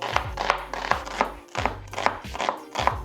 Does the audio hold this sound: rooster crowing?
no